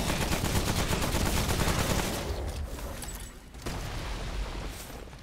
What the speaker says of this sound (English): A little shotgun action.